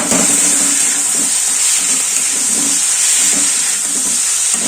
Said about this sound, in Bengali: সয়া সস দিয়ে এটা আমি ভালো করে নাড়িয়ে নেব